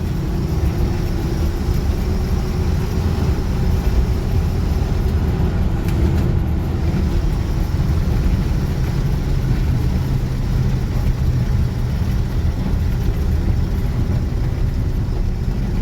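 A straight-eight engine car driving in third gear, a loud, continuous low engine drone and rumble heard from on board that holds steady throughout without a break, with no talking.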